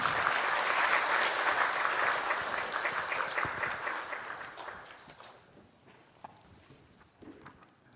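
An audience applauds at a church thanksgiving service marking a magazine's 70th anniversary. The clapping is full at first, then thins and fades over several seconds to a few scattered claps.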